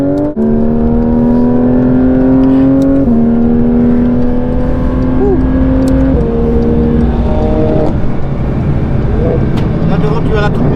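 Porsche 992 GT3 RS engine on a track day, a loud high-revving howl heard from on board that climbs steadily through the gears with sharp drops at each upshift, while a voice talks over it.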